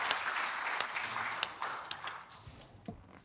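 Applause fills a hall at a regional conference of heads of anti-corruption agencies as the audience claps for three presenters: a faint, steady patter of many hands with a few sharper claps standing out.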